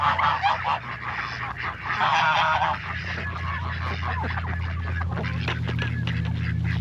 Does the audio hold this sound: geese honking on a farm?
yes